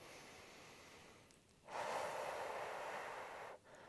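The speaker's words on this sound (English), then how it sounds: "You can breathe in through your nose, out through your mouth like this." A single close, quiet breath drawn in through the nose and let out through the mouth as a long, airy exhale lasting about two seconds, with nothing else heard.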